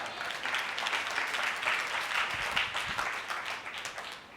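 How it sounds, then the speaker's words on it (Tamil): A church congregation claps during a Sunday service: a dense, even burst of applause from many hands, held steady for a few seconds at moderate distance. "கைத்தட்டுங்க பார்க்கலாம்."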